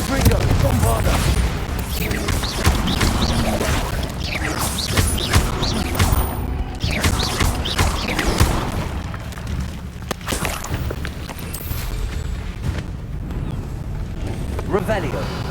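Spell blasts and explosions in the video game Hogwarts Legacy, dense booms, crashes and rapid bursts layered with game effects and music, loud and continuous, while a voice talks over them.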